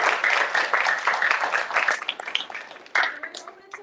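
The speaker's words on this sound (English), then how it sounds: "Give them a round of applause." Applause from an in-person audience for the panelists at a law career event, a dense wash of clapping that thins out over a few seconds before a brief renewed burst near the end.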